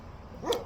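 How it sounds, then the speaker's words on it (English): A single short dog bark, fairly faint and slightly distant, sounds after a brief moment of quiet. "if you excuse my dog, he's very happily sitting behind me and barking"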